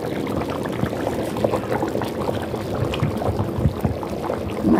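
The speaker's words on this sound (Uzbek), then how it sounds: "rosa chiroyli qaynayapti" Thick eggplant caviar with tomato, onion and garlic simmering in a pot, giving a steady, dense bubbling and popping that runs continuously and fairly close, with no talking.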